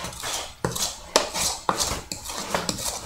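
A spatula scrapes and knocks against the sides of a mixing bowl of dry ingredients, giving several sharp clinks and scraping strokes at a steady, irregular rhythm, close and fairly loud with no talking.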